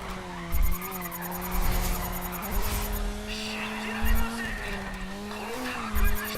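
A race car drifts in Race Driver: GRiD, its tires squealing in long, shifting screeches over a steady engine drone, punctuated by repeated low thumps, while a person talks over the action.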